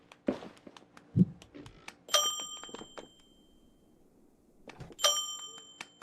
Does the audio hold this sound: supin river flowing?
no